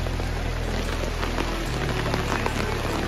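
Heavy rain pours down at the Sonajhuri outdoor market in Shantiniketan, a dense, steady roar of drops drumming on surfaces, loud and close throughout with no pause.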